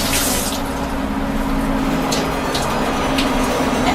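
Tap water runs steadily over dill and parsley stems being washed in a sink, a loud, continuous close-up splashing rush with no breaks.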